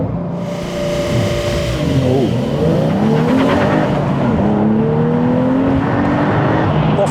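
A loud Porsche 911 Carrera T engine revs hard and accelerates from a launch through rising gears, the roar sweeping up and dropping at each shift, with brief tire noise.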